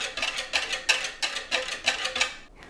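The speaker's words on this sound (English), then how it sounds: "I have this in a pitcher, so I'm gonna whisk in a pitcher" A whisk beats vanilla milkshake ingredients inside a pitcher in quick, evenly spaced strokes, each a bright scraping rattle close to the listener, about three per second, stopping abruptly near the end.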